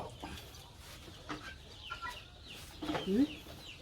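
Chickens give soft, faint clucks outdoors, scattered short calls with a couple of louder clucks near the end over low background noise.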